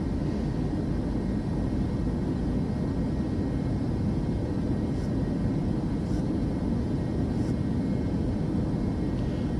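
Steady, loud roar of Boeing 737 jet engines during climb in Microsoft Flight Simulator 2024, a constant broadband rumble with no break or talk.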